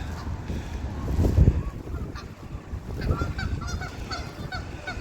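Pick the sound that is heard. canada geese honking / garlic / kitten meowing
canada geese honking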